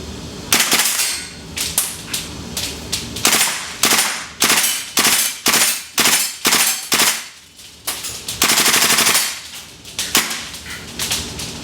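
A WE Tech SCAR H gas blowback airsoft rifle fires in a loud, close sequence of sharp cracking shots, mostly single rhythmic pops with a couple of rapid bursts.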